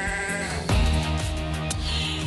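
Goat bleating in a single wavering, nasal call, close and fairly loud, with no talk over it.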